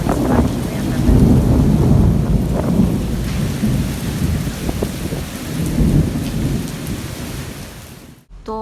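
Heavy rain pours steadily over a village during a thunderstorm, with deep rolling thunder rumbling loudly beneath the dense hiss of falling water for several seconds before cutting off abruptly.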